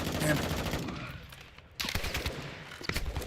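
Gunfire in Call of Duty Black Ops 6, loud rapid automatic bursts close by, dropping to a lull before heavy firing picks up again, with a voice talking in between.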